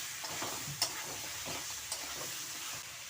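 Bitter gourd (karela) frying with spice masala in a pan, a soft steady sizzle with occasional stirring clicks and scrapes of a spoon, quiet and close.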